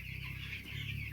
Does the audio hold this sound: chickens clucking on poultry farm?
yes